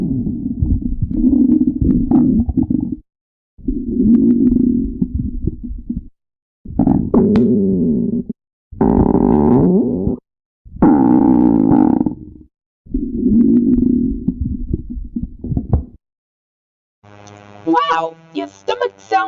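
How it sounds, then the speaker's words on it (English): Stomachs growling loudly in a close series of long, low gurgling rumbles, each lasting a couple of seconds with short gaps between, followed by a brief higher, wavering gurgle at the end. "Let's do a stomach growling chart and see whose stomach is loudest."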